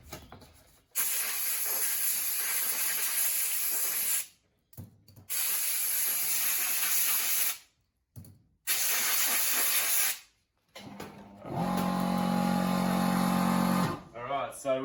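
A hose sprays water to rinse kerosene off Land Cruiser front wheel bearings, hissing loudly in three long bursts with brief silent pauses between. A lower humming, tonal sound follows near the end.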